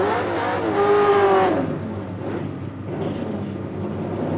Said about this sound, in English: we decided to take the headphones off and just listen to the RPM that was on Steve Green's car